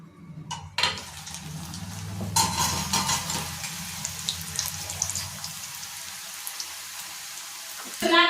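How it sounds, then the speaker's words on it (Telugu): Onion samosas deep frying in hot oil, a steady crackling, bubbling sizzle that runs close and fairly loud throughout, with a few clinks and knocks near the start and end. "మిగతావి కూడా ఇలానే ఫ్రై చేసుకోవాలి"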